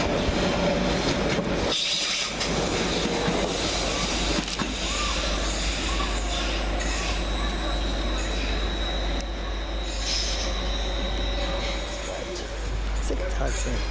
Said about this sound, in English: 745005 passes through